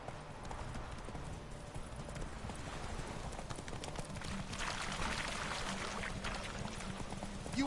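Geralt's horse Roach galloping in The Witcher 3, a steady drumming of hoofbeats under continuous wind and ambient game noise, constant and moderately loud throughout.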